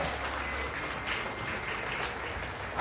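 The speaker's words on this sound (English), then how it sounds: "Clap it up. Clap it up." Comedy-club audience claps steadily for a few seconds, a dense, even patter of many hands with slight swells, no voices standing out.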